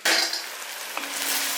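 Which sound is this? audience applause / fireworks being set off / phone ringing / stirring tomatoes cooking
stirring tomatoes cooking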